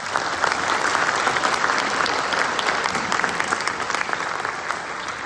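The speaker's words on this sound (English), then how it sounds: "So a round of applause for those two." Steady, dense audience applause fills a school band's winter concert hall, many hands clapping continuously and fairly close for several seconds, with no talk over it.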